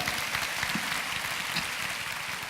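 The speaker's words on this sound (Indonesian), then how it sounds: "Beri tepuk tangan untuk Tuhan kita." A church congregation claps in a full, steady wash of applause lasting a few seconds, close and continuous without speech.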